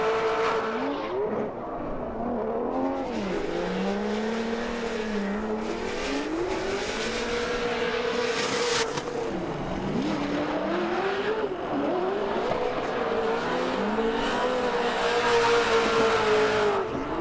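A Formula Drift pro race car drifts during a Top 32 round in Salt Lake City, its engine roaring and rising and falling with revs under continuous loud tire squeal, heard steadily for about seventeen seconds.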